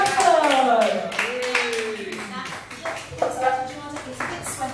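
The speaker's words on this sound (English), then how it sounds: "Applause for Jada Delaford." Audience applause for a performer at a comedy show, with claps and a voice speaking over it, loudest at the start and then fading and rising in uneven bursts.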